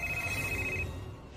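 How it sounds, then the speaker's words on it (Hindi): A telephone rings indoors with one clear electronic ring tone, fairly faint, lasting under a second, with no talk over it. "ये तो उसी का फोन है।"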